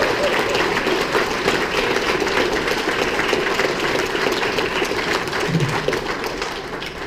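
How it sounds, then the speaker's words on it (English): A banquet audience applauds its club president, a dense, steady wash of clapping that fills the room at even loudness for about seven seconds with a low rumbling murmur beneath it. "I think we all owe him a huge debt of gratitude and a big round of applause"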